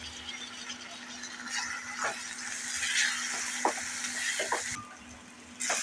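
Onion, tomato, green chillies and a little salt sauté in a pan for a lentil dish, a close, continuous hiss of frying with a few soft scrapes of stirring.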